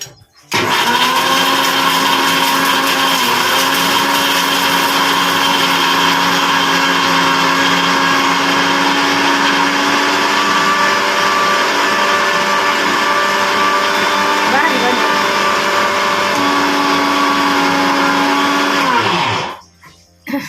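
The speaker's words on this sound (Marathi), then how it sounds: "मिक्सरवर हे खोबरं वाटणार आहे. आता हे खोबरं वाटून घेतो." A mixer grinder grinds coconut with a loud, steady motorised whine and rattling hum that runs for nearly twenty seconds, then winds down and stops.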